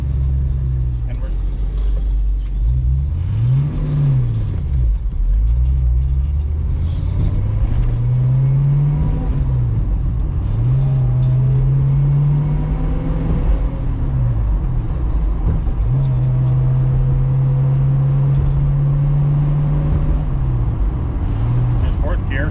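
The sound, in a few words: 1966 Ford Mustang engine with Holley Sniper fuel injection driving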